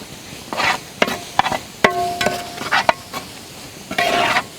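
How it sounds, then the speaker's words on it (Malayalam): Ginger garlic paste and green chillies fry in a village cooking pot for mutton kulambu, with bursts of scraping stirs and knocks over a soft, steady sizzle, close by. "ഇഞ്ചി വെളുത്തുള്ളിക്ക് ഒന്ന് മൂത്ത് വരണം."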